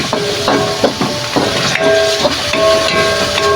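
Worcestershire and oyster sauce sauté in a hot pan with a loud, continuous steamy hiss, broken by several sharp clanks of a utensil against the pan, close by.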